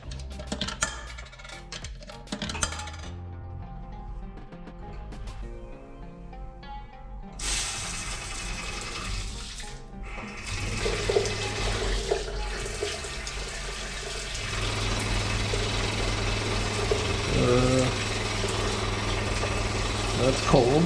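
A coin-operated shower at a campground runs after starting up, with steady hissing spray that grows louder and fuller partway through and continues to the end, close by, with a person speaking briefly.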